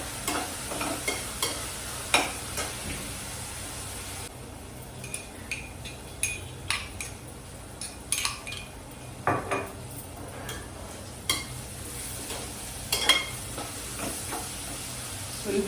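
Onions cooking in a pan with prawns, a steady sizzle and frying hiss broken by repeated scrapes and clinks of a spoon stirring against the pan.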